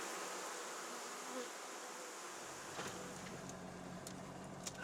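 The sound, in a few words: bees buzzing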